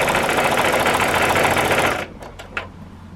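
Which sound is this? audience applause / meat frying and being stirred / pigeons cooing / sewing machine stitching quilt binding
sewing machine stitching quilt binding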